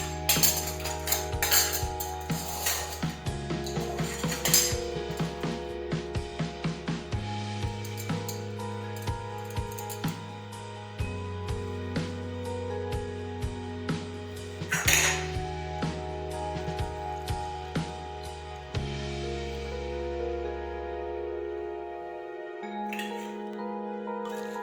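A spoon mixing lemon juice into a garlic, chili, ginger, coriander and peanut chutney in a metal bowl, a steady run of close ringing metallic clinks and scrapes that ends in a few final taps.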